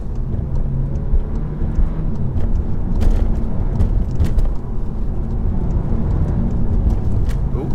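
A Seat Leon FR on the move gives off a loud, close, rough engine and exhaust drone with road roar, steady with a couple of brief sharper bursts, no talk.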